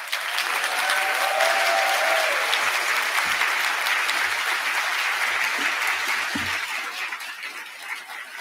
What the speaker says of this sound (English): Conference, give a big round of applause for Lisa and Andy.